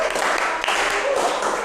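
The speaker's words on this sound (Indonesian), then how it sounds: "tepuk tangan bagi Sati." A short burst of hand clapping from a group, dense and fairly close, lasting under two seconds without clear speech.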